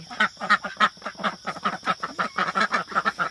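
Ducks quack steadily and rapidly in a lively chorus, close by, with overlapping calls throughout.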